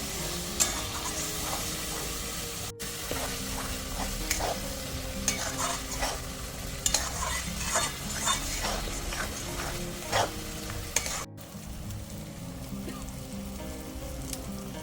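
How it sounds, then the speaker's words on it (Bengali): Crab curry masala sautéed in oil in a pan, steady sizzling frying with repeated scraping stirs throughout, close and fairly loud, no talking. "এবারে অনেকক্ষণ কষবো। এই তেলটা ছেড়ে যাবে তখন আমি কাঁকড়াগুলো দিয়ে দেব।"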